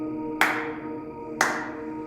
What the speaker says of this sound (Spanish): Después se escucharon aplausos